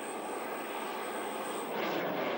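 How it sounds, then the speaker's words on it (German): Military target drones launch and fly during a live-fire air-defence exercise with the Ozelot system, a steady loud engine roar with no pauses that swells further toward the end. "Die nächsten Drohnen werden gestartet."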